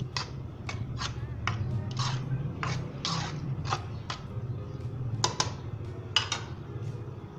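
Boiled potatoes mixed into a bowl for dahi bhalla, giving a steady run of spoon-against-bowl clinks and scrapes over a low rumbling background, close and moderately loud.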